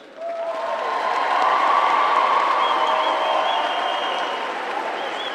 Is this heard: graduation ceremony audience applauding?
yes